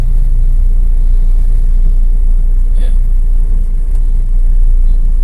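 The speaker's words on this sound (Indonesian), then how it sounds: "Suara mesin pun juga bergetarnya nggak terlalu ya, bahkan udah mulai stabil ya" A 2011 Toyota Avanza engine idles steadily with a low, constant rumble, and a voice speaks briefly over it.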